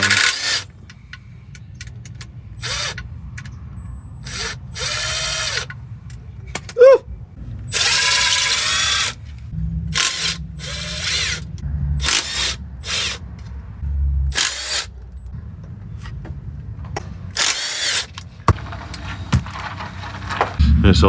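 Power tool working the oil pan bolts on a 2004 VW Jetta: repeated short whirring bursts separated by pauses, along with metallic clinks and ratchet-like clicks, close by, with no talk over them.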